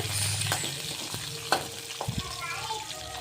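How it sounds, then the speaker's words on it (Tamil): Onions sauté in a pan for a chicken curry, a steady low sizzle running throughout while a spoon stirs and scrapes in a few short strokes near the middle. "வெங்காயம் நல்லா பொன்னிறமாக ஆகணும் அந்த அளவுக்கு நல்லா வதக்குங்க"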